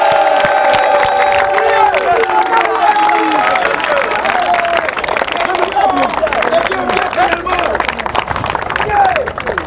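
A church congregation cheers and acclaims Jesus Christ, a loud, sustained roar of many voices shouting and calling out together, with some clapping mixed in.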